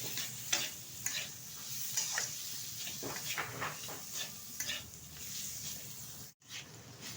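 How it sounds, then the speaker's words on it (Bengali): Chicken sautéed and stirred with spices in a pan, a continuous sizzle punctuated by repeated spatula scrapes and stirring strokes, moderately quiet, with a brief dropout near the end. "চিকেনটা বেশ কিছুক্ষণ আমি নেড়ে চেড়ে নিয়েছি"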